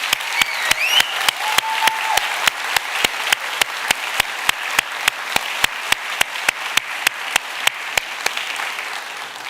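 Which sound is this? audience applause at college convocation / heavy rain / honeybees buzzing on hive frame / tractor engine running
audience applause at college convocation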